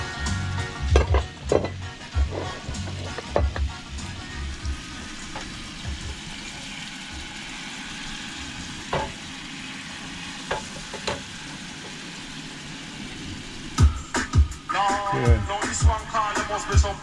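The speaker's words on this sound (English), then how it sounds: "Caramelize some of that honey." Honey caramelizing in a hot pan for flaming bananas, a steady sizzle with bursts of stirring and utensil scrapes near the start and end, close and fairly loud.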